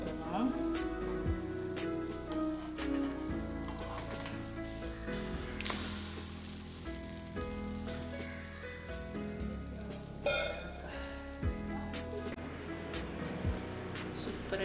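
An egg frying in a pan, a steady crackling sizzle with scattered pops and occasional scraping stirs, close and moderate in level, with a voice talking over it.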